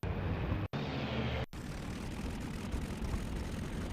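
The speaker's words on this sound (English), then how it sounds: "BF-110 landing in France." Steady, loud drone of a Bf 110 twin-engine fighter in IL-2 Sturmovik 1946 as it comes in to land in France, the roar briefly cutting out twice before continuing evenly.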